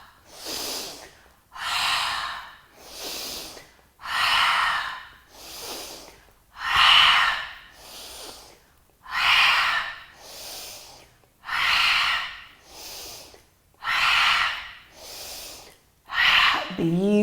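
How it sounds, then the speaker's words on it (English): Forceful breaths in yoga practice, with loud exhales out through the mouth alternating with softer inhales in a slow regular rhythm, about seven paired cycles, close to the mic. "as you exhale, you'll lower the elbows, take the chin backwards and exhale out of the mouth audibly"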